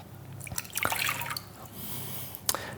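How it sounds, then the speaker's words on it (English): Lukewarm water poured into sourdough rye flour, a soft close splashing and dripping pour with a few irregular drips and trickles, no talking. "So we'll put the water in,"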